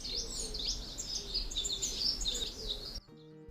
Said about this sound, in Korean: 귀를 울리는 새소리